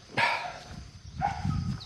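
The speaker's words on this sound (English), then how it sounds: "Not much noise other than my dog howling, which is so irritating." A dog gives two short, loud vocal bursts close by, howling or barking with a brief pause between them, against a quiet outdoor background.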